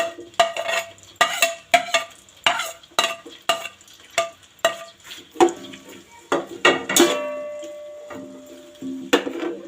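Onions dropping into hot oil for a mixed vegetable pulao, with repeated sharp stirring scrapes and clinks of a utensil against the pan over a steady sizzle, loud and close, no talking.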